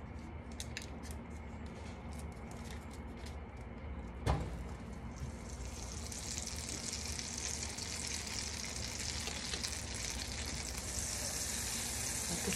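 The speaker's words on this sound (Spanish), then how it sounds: "ya con nuestra cazuela caliente, vamos a echar nuestra mantequilla" Butter melts in a hot cooking pot, a quiet low background hiss that swells into a steady, bright sizzle after a sharp clink, continuing evenly to the end.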